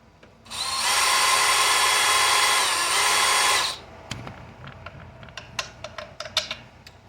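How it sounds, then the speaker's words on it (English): A power drill whirs steadily for about three seconds backing out 1/4 inch machine screws, then stops, followed by scattered clicks and small clattering sounds of parts being handled. "So we can just back those out with our drill."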